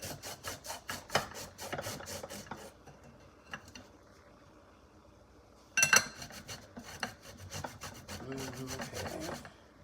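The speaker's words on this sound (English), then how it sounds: "we're just going to scrape just a little bit. Zest of the lemon into it." Lemon zest is scraped on a fine grater in bursts of quick, rhythmic rasping strokes, with a pause in the middle before a louder run of grating resumes, close and clear with no talking.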